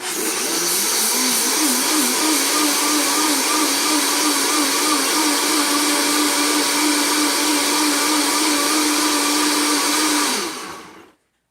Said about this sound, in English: So we'll fire it up.